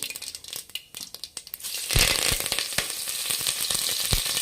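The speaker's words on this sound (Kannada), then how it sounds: "ಇವಾಗ ಎಣ್ಣೆ ಕಾಯ್ದಿದೆ. ಸಾಸಿವೆ ಹಾಕೊಳ್ಳೋಣ." Mustard seeds crackle and sizzle in hot oil, starting with sparse sharp pops, then building at about two seconds into a dense, steady spitting fry with frequent close popping bursts.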